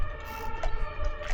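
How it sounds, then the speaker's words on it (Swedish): An ambulance siren wails in steady tones with a couple of brief swells, loud and fairly close, over a low rumble of background noise, with no talk. "Kommer ambulansen här."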